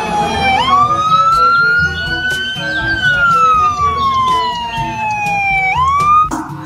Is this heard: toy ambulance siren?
yes